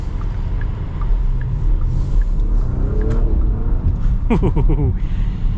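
A 2025 Porsche Cayenne S with its V8 in sport mode drives past in a loud continuous rumble, with rising engine tones as it accelerates and a short burst of higher whirring near the end.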